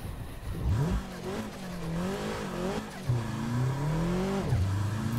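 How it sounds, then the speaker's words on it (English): Toyota GR86 engine on a hillclimb in Assetto Corsa, revving up and down steadily through gear changes, loud and close with some tire noise, no talk. "here we go on that nice track here with that fantastic Toyota GR86"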